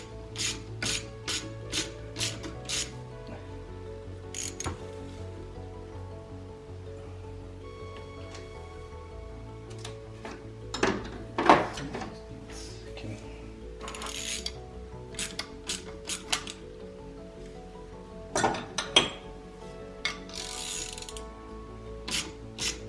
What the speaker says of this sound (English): So I'm going to loosen up this housing,